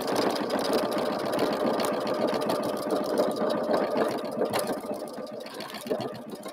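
A sewing machine runs straight stitching on a quilt, giving a steady, fast mechanical whir with a rapid needle rhythm that carries on nearly unbroken and eases slightly toward the end.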